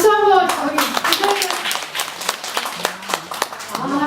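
Audience clapping at a Buddhist university lecture on death studies, a short burst of brisk hand claps from a modest group, with a lecturer's voice speaking over and around it.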